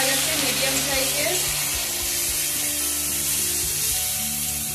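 Grated onion fries in a pan for Bengali fish kalia with a loud, steady, close sizzle and hiss, broad and unbroken throughout, with a faint stir now and then.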